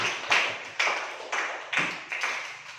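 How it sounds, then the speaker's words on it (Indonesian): A classroom of students gives a short round of claps, about six distinct rhythmic group claps spaced evenly, fairly quiet and close. "beri tepuk tangan untuk saya"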